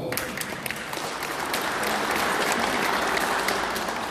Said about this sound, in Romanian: acum puteți să-l aplaudați.